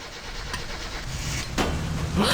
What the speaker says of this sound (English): Attempt 2 at starting the car.